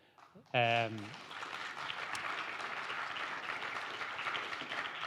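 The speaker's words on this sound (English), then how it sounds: "isn't it lovely to have a round of applause?" Audience at a roundtable discussion on the legacy of the Civil War breaks into sustained applause after a brief voice, the clapping steady and moderately distant in a hall.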